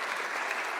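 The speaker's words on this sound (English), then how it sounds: "Let's give Carson a big round of applause" A congregation at a church livestream applauds in a brief, steady burst of dense clapping, moderately distant and unbroken by talk.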